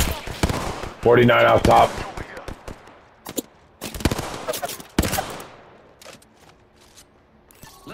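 Bursts of weapon fire aimed at a target in a multiplayer shooter video game, sharp repeated shots in loud clusters with gaps between them, and a voice speaking briefly over the gunfire.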